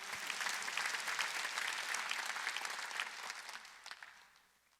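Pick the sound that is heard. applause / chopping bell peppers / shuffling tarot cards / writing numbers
applause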